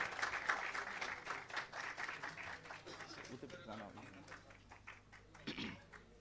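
Audience applause at a Uniglobe College ceremony welcoming a professor to his seat: moderately faint, steady clapping from a seated crowd over about six seconds, with talking mixed in underneath.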